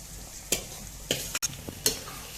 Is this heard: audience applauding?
no